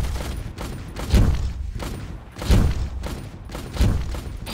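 Three heavy booming blasts land at even intervals as an enemy turret is destroyed in the Vainglory 5v5 mobile game, each a deep thud with a crackling tail over a constant game background.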